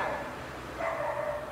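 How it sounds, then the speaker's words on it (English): A dog barks outdoors, heard faintly from inside as a few muffled, distant barks, the clearest one near the end, over a low room hum. "there's a dog barking outside"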